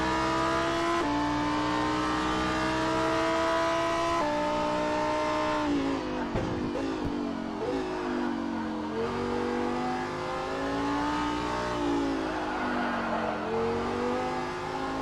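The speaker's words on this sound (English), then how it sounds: "Here's the view from John Maher's cockpit in the number 88 Lamborghini STC." Lamborghini Super Trofeo race car at Long Beach, heard from the cockpit: the engine screams loud and close, revving up through the gears with sharp shifts and lifts, then pulling hard again, and no one speaks.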